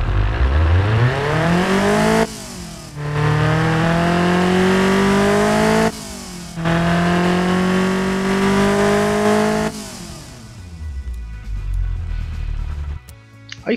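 A 1977 Pontiac Iron Duke engine running on 91 octane fuel revs hard three times, its pitch climbing and holding at each rev before dropping back, loud and close, then it settles to a rough idle.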